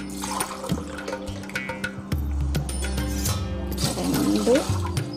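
Tumblers of water are poured into a pot of chicken biryani, several splashing pours with faint clinks from the vessels, while someone talks over the cooking.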